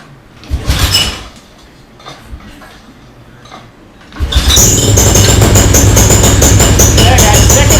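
Small engine pull-started with the choke on: a couple of short rope-pull chugs, then it catches and runs steadily at a loud, buzzing high idle until the end.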